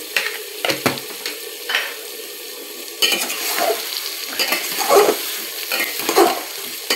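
Spices fry in a clay handi for mutton curry, with a continuous sizzle broken by repeated scraping and clinking of a spoon against the pot, the stirring growing busier toward the end.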